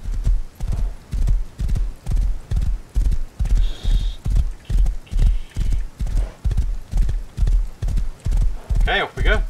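Horse hooves in the video game Rust pound in a steady, loud galloping rhythm throughout. A brief whinny sounds near the end, and a player's voice talks over parts of it.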